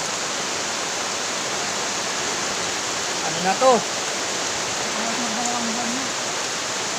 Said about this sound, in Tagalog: Malakas pa hangin o yan, malakas pa hangin, malakas pa ulan, pabugso-bugso ang ulan.